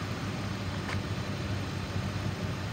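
A 2007 Ford E-350 passenger van with a 5.4 liter V8 and automatic transmission idles, a steady low rumble with a constant hiss over it, even and unchanging, with no voices.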